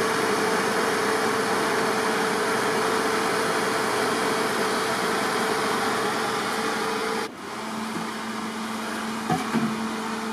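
A home water distiller runs at close range with a steady, loud mechanical whir and hum that holds for several seconds, then drops slightly in level and carries on with a quieter drone and a couple of faint clicks.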